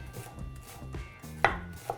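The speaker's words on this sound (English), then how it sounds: "First step, chopping a shallot." A knife chops a shallot on a cutting board in steady, fairly quiet taps, with a sharper knock near the end, and no voices.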